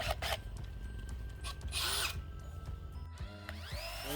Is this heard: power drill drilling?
yes